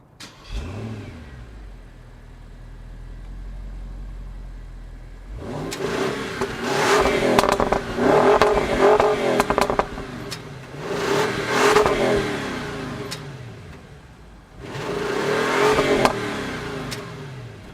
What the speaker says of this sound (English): So what did you think of the exhaust of the V8S?